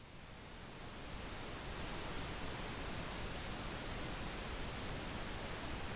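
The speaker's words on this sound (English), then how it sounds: "for a high frequency cut, this is what it sounds like on pink noise." Steady pink noise passed through a high-frequency cut filter on a Behringer Wing mixer, a continuous even hiss with the top end rolled off, unchanging throughout after a slight fade-in.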